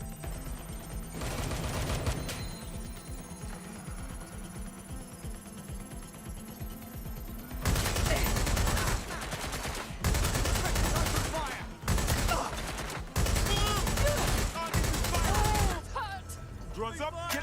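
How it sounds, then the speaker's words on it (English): Repeated bursts of rapid automatic gunfire in the video game Watch Dogs: Legion, several long volleys, loud and close, with quieter pauses and a voice talking between them. "Gunfire."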